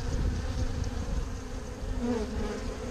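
Honey bees buzzing around an open hive during spring brood box management, a steady dense drone close to the microphone, with no talking.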